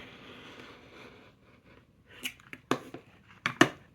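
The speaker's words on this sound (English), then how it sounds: "I'm going to engage my rotary cutter, use spider fingers on the ruler," Left-handed rotary cutter slicing fabric along a quilting ruler, a quiet rustle at first, then several sharp crisp cutting scrapes and clicks bunched near the end, close and alone.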